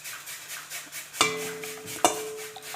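Butter, sugar and eggs being mixed in a bowl for chocolate shortbread dough, with soft stirring and scraping broken by two sharp clinks of a utensil against the bowl.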